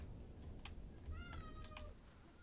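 A cat meows in the background, with a couple of short, rising calls lasting about a second, set against steady low game music and room noise.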